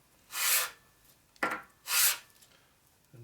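Two long rasping strokes of a hand file across metal on a 1946 Harley knucklehead engine part, with a shorter scrape between them, close and distinct with no talk.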